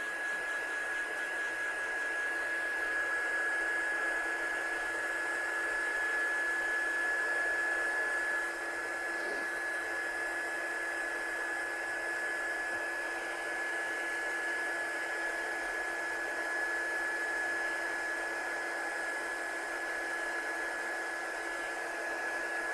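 Hair dryer blowing to dry ink on a handmade card, a steady, even whooshing drone with a thin high whine running throughout, close and unbroken, with no voices.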